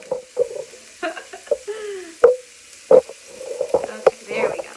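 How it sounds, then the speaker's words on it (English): Vegetables sauté for lentil soup in a pot, popping and sizzling in uneven bursts close to the microphone, with some stirring clatter and no speech. "You hear the sizzle?"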